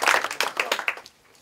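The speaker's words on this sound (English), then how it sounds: "just one more round of applause for him." Brief clapping from a convention audience at a Roman military history panel, a short burst of hands that tapers off within about a second.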